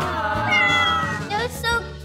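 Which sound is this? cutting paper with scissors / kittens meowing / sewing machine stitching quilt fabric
kittens meowing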